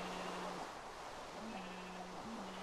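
Several flat, synthetic-sounding Minecraft sheep bleats repeat every second or so over a steady hiss, with no talking.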